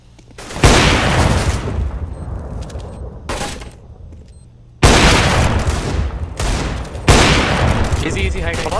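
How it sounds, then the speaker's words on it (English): In the video game CS:GO, loud explosive blasts and bursts of gunfire hit in three heavy waves, each crashing in suddenly and trailing into a noisy rumble, with players' voices likely mixed in. "Grenade!"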